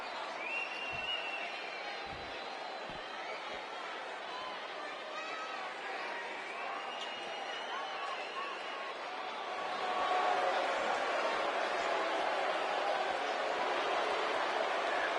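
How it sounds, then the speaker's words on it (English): Wrestling arena crowd at an HWA event booing a wrestler, a broad sustained roar of jeers that swells louder partway through, with commentary voices talking over it. "they're booing him a lot"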